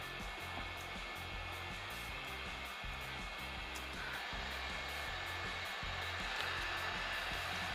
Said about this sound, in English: the heat guns are easy to use because it's big and it's stabilized and it's very easy to hold